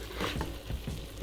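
Flour, butter and vegetables cook in a pan for crawfish étouffée, making a soft, even sizzle with faint stirring scrapes close by and no voices.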